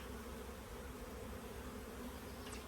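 Honeybees buzz softly around a nuc frame during a queen-rearing hive inspection, a steady, low, continuous hum with no voices.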